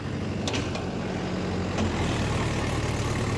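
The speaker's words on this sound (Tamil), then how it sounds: "வண்டி பார்த்தீங்கன்னா பயங்கரமாக வாங்குது லோடு" A Mahindra Yuvo Tech+ 585 tractor drives a rotavator under heavy load, its diesel engine roaring in a loud, steady drone. A couple of brief higher rattles cut in over the constant rumble.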